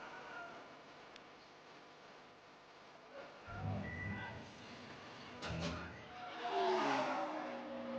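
NASCAR Busch Series race cars run the front straightaway at Mexico City at about 170 mph, engines swelling in from a distance and fading again in two or three faint passes under crowd noise.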